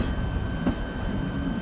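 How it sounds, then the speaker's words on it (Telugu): A train departing in an Indian railway simulator game: steady low rumble of wheels and carriage noise with a brief clank partway through, continuous and moderately loud with no voices. "కరెక్ట్ టైంకి బయలుదేరింది బ్రో ట్రైన్ అయితే"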